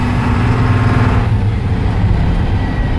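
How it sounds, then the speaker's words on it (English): An old Thomas-built Blue Bird school bus pulls along a muddy track in second gear, its heavy engine droning loud and close with a steady transmission whine running through it, and no talking. "you could never hear the second gear whine. If you notice, it's whining"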